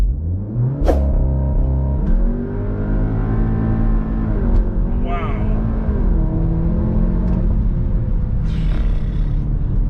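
A Seat Cupra Ateca ABT tuned to 345 hp launches hard from 4,000 rpm, its engine roaring loud and close as it climbs through the gears with brief dips at the shifts, under steady road rumble and a voice talking over it.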